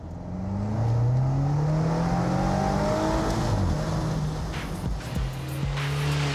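A 555-horsepower BMW X6 M engine revs up and holds a loud, rising roar, close and continuous, with pitch sweeping upward.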